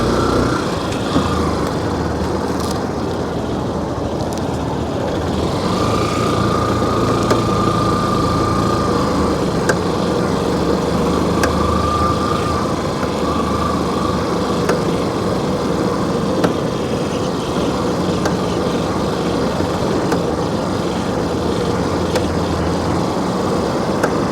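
A motorcycle rides toward Antarvedi beach near Narsapuram as Cyclone Montha makes landfall; its engine drones steadily and loudly for the whole stretch, with no talking.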